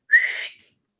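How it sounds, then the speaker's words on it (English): A referee-style whistle blown by a flying-lesson instructor in a stage parody of Harry Potter and the Sorcerer's Stone: one short, bright blast of about half a second, clear and close with no talk over it. "When I blow my whistle, that I definitely have, I want each of you to kick off from the ground, hard."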